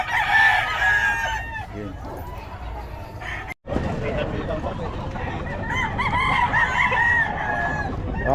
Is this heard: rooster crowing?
yes